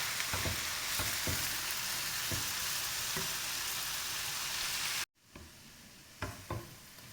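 Filling for a layered puff-pastry pie sizzles and fries in a pan as it is stirred with black pepper, steady crackling hiss with scraping strokes, briefly cutting out then resuming more quietly.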